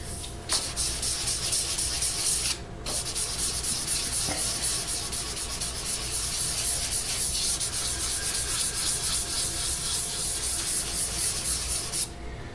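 Continuous sanding of a super glue finish on a guitar, a steady gritty rubbing close by, runs almost without pause, with two brief breaks.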